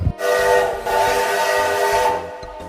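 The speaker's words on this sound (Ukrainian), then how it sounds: "Це ж звук потяга." A train rumbles along steadily with a sustained tonal horn or whistle sounding over it, loud and continuous throughout.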